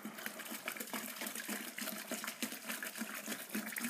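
Apple juice for cider pours into a container as a continuous splashing, gurgling stream, with no talk over it.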